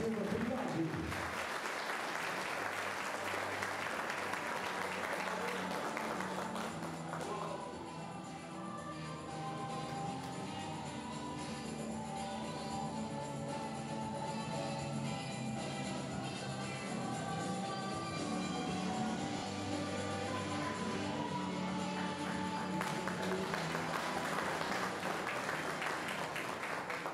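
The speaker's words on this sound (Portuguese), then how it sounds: "Uma salva de palmas a José Rodrigues da Silva, Trindade." An audience at a sports memory honors ceremony claps for an honoree in sustained, even applause that fills the room for a long stretch and fades slightly midway before swelling again.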